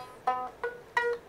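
An untuned oriental plucked instrument with a turtle-shell body, bought in Morocco, sounds three separate twangy plucked notes, each ringing briefly and decaying, fairly quiet and close with no talk.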